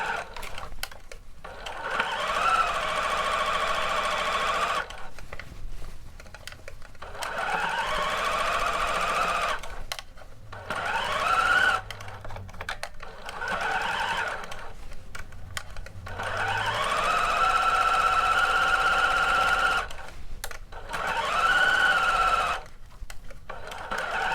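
A sewing machine stitches a sleeve into a bodice in repeated runs of steady whirring, each several seconds long and broken by short pauses, close and clear with no talk.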